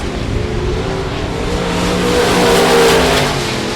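Race car engines roar at a dirt speedway in South Texas, a loud continuous drone that swells as cars approach and pass close by.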